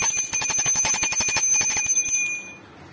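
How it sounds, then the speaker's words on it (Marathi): A handheld puja bell rung during Dhanteras worship gives a rapid, steady run of bright metallic strikes for over two seconds, then a short fading ring. "घंटानाद करूया."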